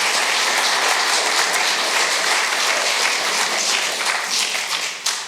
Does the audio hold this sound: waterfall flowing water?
no